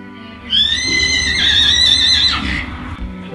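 A horse gives one long, loud, shrill whinny close by, rising and wavering for about two seconds before trailing off, with no talking over it.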